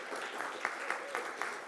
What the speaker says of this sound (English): giving the loudest round of applause the day might have witnessed